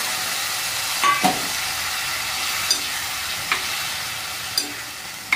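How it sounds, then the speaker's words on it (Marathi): Cooked bottle gourd stirred into a sizzling pan of village-style vegetable curry: a steady close frying hiss with a few scraping spoon strokes against the pan, no voices. "आणि आपला शिजलेला भोपळा याच्यामध्ये टाकून द्यायचा."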